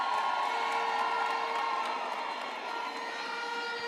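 A graduation ceremony audience applauds and cheers for the evening's graduates at a UNISA autumn ceremony, a steady dense wash of crowd noise with whistles and shouts running throughout at constant loudness.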